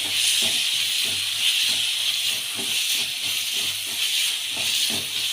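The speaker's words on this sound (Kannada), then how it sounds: "ಟೊಮೆಟೊ ಕೂಡ ಸೇರಿಸ್ಕೊಂಡು ಸಾಫ್ಟ್ ಆಗಿರೋದು ಚೆನ್ನಾಗಿ ಫ್ರೈ ಮಾಡಬೇಕು" Chopped tomatoes fry in a pan with a loud, constant hissing sizzle, while softer rhythmic stirring pulses repeat underneath, close up and with no voices.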